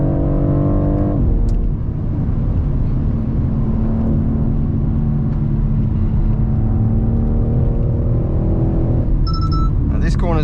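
A 2023 BMW X4 M Competition pulls hard uphill on the Nurburgring, its engine a loud, close, continuous drone that rises in pitch early on before holding steady.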